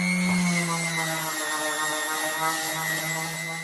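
An electric sander whines steadily on wood with a sustained mechanical hum and a few tonal shifts, close by and without any talking.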